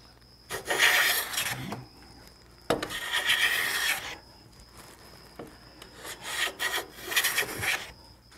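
A hand plane shaves a board of wood held in a vise with three or four rasping strokes in a steady rhythm, each a second or so long, heard close and alone with no talking.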